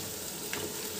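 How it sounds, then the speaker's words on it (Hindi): Fried onion paste sizzles in a pan on a high flame while cooking for a Hyderabadi kacchi chicken biryani, a soft steady crackle with a brief stirring scrape in the middle, no voices. "फ्राई किया हुआ अनियन का पेस्ट डालते के साथ ही हमें इसमें पुदीना डालना है"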